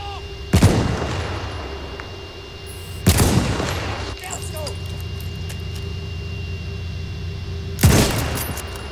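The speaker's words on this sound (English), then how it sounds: "Where's the shooting coming from?" Three heavy booming gunshots ring out in the video game Battlefield 1, spaced a few seconds apart over a steady background rumble, with a player's voice present in the mix.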